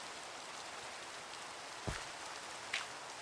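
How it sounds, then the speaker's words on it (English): Steady rain in the video game BM: Exosphere, a constant soft hiss of falling rain with a couple of brief louder taps, no talk. "we can't skip the rain."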